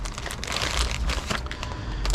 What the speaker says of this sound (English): you're going to need to open up this pad